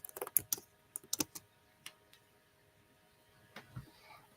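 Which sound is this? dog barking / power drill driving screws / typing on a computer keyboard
typing on a computer keyboard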